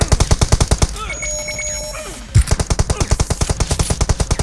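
Rapid automatic gunfire in PUBG, loud evenly spaced bursts of shots that break off for about a second with ringing tones, then resume in a fast steady rhythm.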